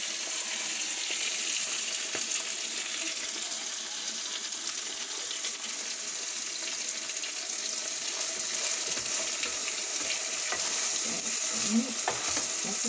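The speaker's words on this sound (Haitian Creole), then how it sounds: "Là, je vais mettre bouillir." Chicken in sauce with a little water simmering in a pot, giving a steady close sizzling, bubbling hiss that runs evenly throughout with a few soft stirring clinks and no talk.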